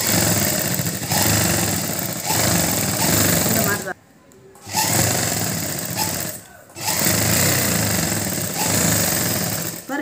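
Sewing machine stitching the collar of a school uniform coat, running in steady loud bursts with two brief pauses, close to the microphone.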